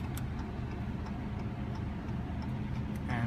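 Hazard lights on a 2015 Chrysler 200 ticking in a steady, even rhythm over a low engine idle heard from inside the car.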